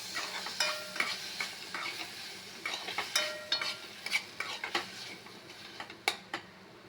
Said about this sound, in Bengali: পাঁচ মিনিট বাদে আমি ঢাকাটা খুলে নিচ্ছি টমেটোগুলোকে নেড়ে দেবো